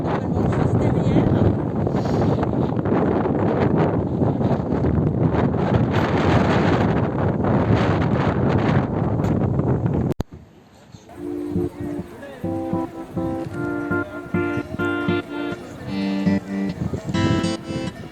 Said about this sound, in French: là il y a du vent, j'espère que vous allez m'entendre